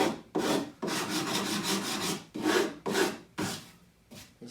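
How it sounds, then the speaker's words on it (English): A hand tool rasps across wooden horse legs to chamfer their edges, giving rhythmic close scraping strokes, about seven of them, each a few tenths of a second to over a second long, with short pauses between. "I like to just give the legs a little bit of a chamfer"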